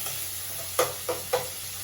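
Soft steady sizzle of frying in oil, broken by three brief scraping stirs, close by with no voices.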